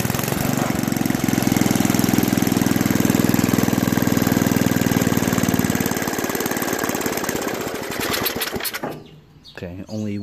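An Ariens ST824 two-stage snow blower engine runs loud and close on choke, a dense, fast-firing drone held steady, then easing and sputtering near the end. A voice speaks briefly as the engine fades.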